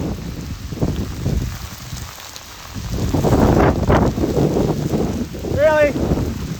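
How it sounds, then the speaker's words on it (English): Heavy rain and hail pelt down outdoors, a loud dense patter with gusty wind buffeting the microphone and brief muffled voices nearby. "It's like fucking hail hitting me right now."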